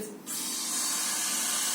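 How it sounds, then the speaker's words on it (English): Water pours steadily into a bowl for fermenting cucumbers, with a bright, splashing hiss that starts after a brief pause and continues evenly. "now I'm going to add 6 more cups of water into"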